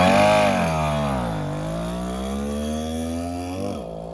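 An NV 150cc motorcycle with a scissor-type engine running, a steady buzzing idle whose pitch dips, then rises slowly as the throttle is worked, close by and fairly loud.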